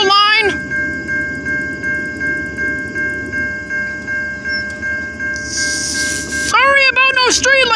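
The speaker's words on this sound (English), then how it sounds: "We do have a very late Amtrak next, folks, on the NS Chicago line." An Amtrak train passes on the Norfolk Southern Chicago line at Crissey Road, loud and close, with sustained horn blasts over rhythmic wheel clatter and rumbling cars, while people talk nearby.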